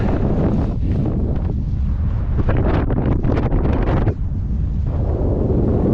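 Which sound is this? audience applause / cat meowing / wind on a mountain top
wind on a mountain top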